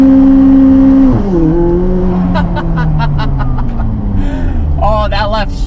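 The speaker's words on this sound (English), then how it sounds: "So the car can do a burnout." A McLaren 600LT does a burnout, its engine roaring loud and then dropping in pitch as it holds a strained, droning note, with people talking and exclaiming over it.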